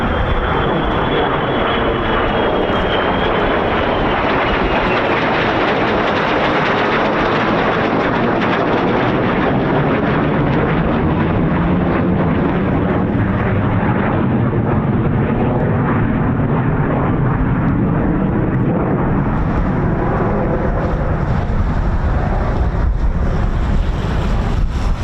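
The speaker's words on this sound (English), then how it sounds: "No, F-35s, here we go." F-35 fighter jets flying over RAF Lakenheath give a continuous, loud, broad jet roar that shifts in pitch as they pass, steady for the whole stretch and with no voices.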